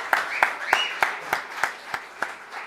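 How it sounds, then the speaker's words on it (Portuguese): Applause during a council session as a team is honored, heard as slow, evenly spaced individual claps, roughly one every third of a second, fairly close and clear. "dar uma salva de palmas para o Erivelto e toda a sua equipe"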